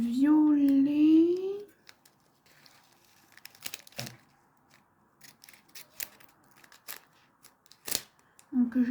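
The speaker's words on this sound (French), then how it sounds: "Donc je coupe avec des ciseaux comme ça" Small scissors snipping through packaging while unboxing diamond painting storage, a series of sharp, irregular clicks and crinkles, close up, after a brief stretch of a voice at the start and another voice returning at the end.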